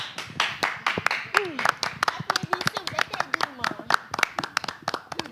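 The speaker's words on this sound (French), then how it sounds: "Applaudissez" Scattered audience applause at a live stage show, a thin group of distinct claps in irregular rhythm, with voices talking and exclaiming over and between them.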